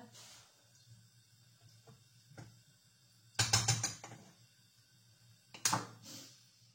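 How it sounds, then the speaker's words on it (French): A gas stove burner is lit in a home kitchen. A few soft clicks come first, then two short, sharp bursts of clicking ignition and flame catch against a quiet background. "C'est parti et j'allume le feu."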